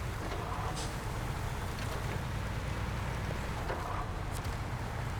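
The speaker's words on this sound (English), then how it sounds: "I just love the rumble of these engines." A truck engine in the video game SnowRunner, during trail logging in Wisconsin with a Pacific P512PF, gives a steady, unbroken low rumble with a faint hiss over it, constant in level and without speech.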